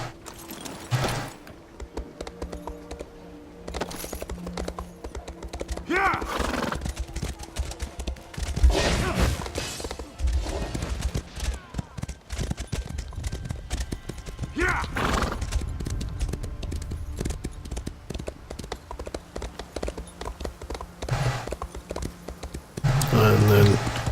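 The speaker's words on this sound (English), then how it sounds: "Let's call our horse." A horse in The Elder Scrolls Online whinnies and clip-clops near and loud, its hooves drumming in bursts with a few sharp game effects mixed in and someone talking throughout.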